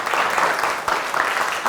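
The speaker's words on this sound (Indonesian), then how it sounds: "Kelompok yang mewakili presentasi, kita beri tepuk tangan." Classroom applause from students rewarding a presenting group, a steady dense patter of many hands clapping close by for under two seconds.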